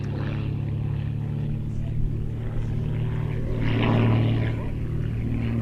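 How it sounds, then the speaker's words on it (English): Light single-engine aerobatic aeroplane, designed by Philip Steinbach, flying a display with a steady propeller drone that swells slightly mid-way, heard at a distance over a faint crowd murmur. "Very light aeroplane, developed by a chap called Philip Steinbach"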